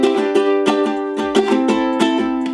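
Ukulele chords strummed in a down, down, up, down, up pattern, bright and close, with steady rhythmic strokes ringing out alone.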